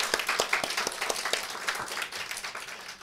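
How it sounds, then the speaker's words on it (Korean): Congregation in a church gives a round of thanksgiving applause after a youth winter camp, a steady dense clapping that carries on evenly with no speech over it. "우리 감사의 박수로 영광을 올려드리겠습니다"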